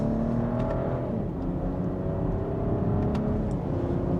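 A 2025 BMW X7 xDrive40i in sport mode, second gear, pulls away under gradual throttle, its engine a steady, full drone heard from inside the cabin with no talk.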